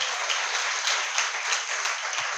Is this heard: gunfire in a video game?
no